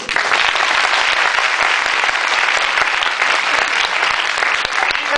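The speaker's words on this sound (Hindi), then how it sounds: "एक तालियां बजाओ अपने लिए जोरदार।" A crowd applauds loudly and continuously, dense overlapping claps close by that hold steady for several seconds without a break.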